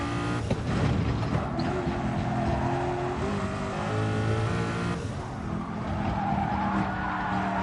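Race car on the Nordschleife in a racing video game, engine revving hard through gear changes with tyres squealing and skidding, loud and continuous, revs rising and falling before a sudden drop in pitch.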